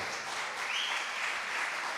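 Applause at a family camp gathering for Andrews, a steady wash of many hands clapping together for about two seconds at moderate level, with no talking over it.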